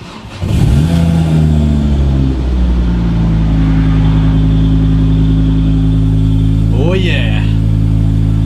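A Ford Transit Connect van fitted with a Focus ST 2.5 turbo five-cylinder engine revs up loudly and close, then holds a steady deep idle; someone speaks briefly near the end.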